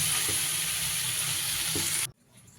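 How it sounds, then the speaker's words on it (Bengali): Spinach sizzles steadily in a frying pan while being stirred, a close, continuous frying hiss with a couple of soft stirring knocks, ending abruptly. "এইবার সুন্দর করে নাড়াচাড়া করে মিশিয়ে নিলেই তৈরি হয়ে গেল আমার অমৃত শাকের পালং শাকের রেসিপি।"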